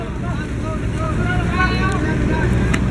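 Engine rumble of a departing ferry at a Philippine pier, a steady low drone with wind and water noise throughout, loud and continuous.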